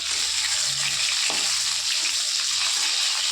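Soybean chunks coated in sauce and cornflour fry in oil in a wok, giving a steady, loud hiss that lasts the whole stretch with no voices.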